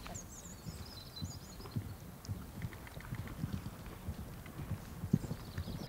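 Horse hooves during a show jumping ride, a soft uneven clip-clop of footfalls on arena ground, fairly quiet and steady throughout, with a faint high whinny-like sound early on and no talking.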